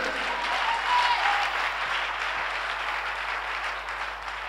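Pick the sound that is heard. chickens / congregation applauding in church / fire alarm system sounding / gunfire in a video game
congregation applauding in church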